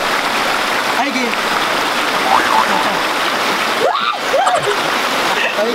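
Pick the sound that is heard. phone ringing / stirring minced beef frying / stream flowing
stream flowing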